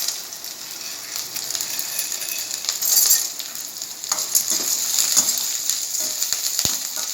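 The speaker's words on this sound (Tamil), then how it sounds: "நல்லா வெங்காயத்தை வதக்கிக்கிறோன்னு. வதங்கிட்டு இருக்கு வெங்காயம்." Onion sauteing in a pan with chana dal and urad dal for veg idiyappam: a soft, steady sizzle under repeated scraping strokes of a spatula and a few light metallic clinks.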